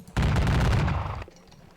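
A musket volley in a Napoleonic-era wargame on the Rhine at Kaiserslautern, one loud, dense crackling burst of massed shots that rolls for about a second before dying into quiet.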